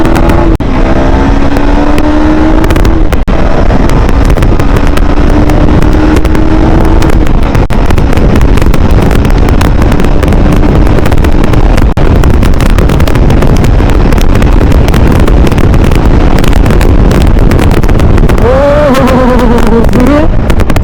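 A KTM Duke 250 motorcycle accelerates hard through its gears. The engine's rising whine drops back at each shift under steady, heavy wind rush.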